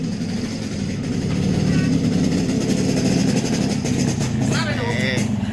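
A Yamaha RX King two-stroke motorcycle with a Medan-style exhaust idles loudly and steadily, its engine running continuously close by with a rough, throaty burble.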